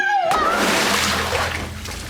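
Cartoon character Jeffy plunging down stairs into water: a loud splash cuts off a short whistling tone, then churning, sloshing water that fades gradually.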